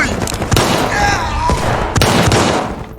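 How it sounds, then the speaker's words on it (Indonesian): Gunfire in the war film Fortress of War, set during the assault on the Brest fortress: a dense battle mix of sharp shot impacts and bursts, loud and close, over a continuous roar of combat noise. "Dan seketika itu juga, Letnan Weinstein langsung menembak mati prajurit itu hingga tewas."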